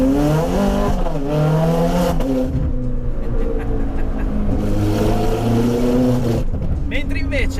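A Ferrari 430 Scuderia with a single-clutch gearbox revs hard on a test drive, its engine note rising and falling loudly and close throughout, with a brief throttle lift near the end.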